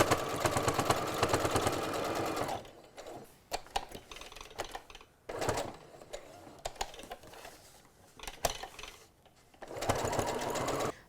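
Domestic sewing machine stitching a fabric surgical mask in short bursts, with loud whirring runs separated by quieter pauses filled with handling and clicks, close up.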